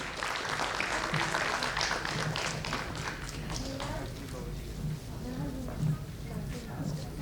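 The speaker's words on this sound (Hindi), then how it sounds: "जोरदार तालियां कृपया" Audience applause for a first prize winner at an English-medium school prize ceremony, a steady wash of clapping throughout with a few louder thuds, moderately distant.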